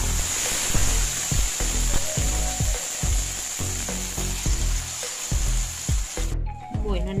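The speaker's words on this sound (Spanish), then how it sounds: "Voy a engrasar el sartén para hacer la pechuga." Chicken breast frying in a greased skillet gives a steady broadband sizzle, with a run of soft knocks and scrapes from the pan throughout; the sound dips briefly near the end.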